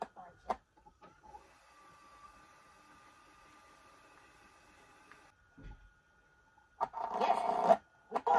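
A VCR fast-forwards a VHS cassette tape, giving a faint steady mechanical whir with a few clunks, then a louder rattling burst near the end, close and with no talking.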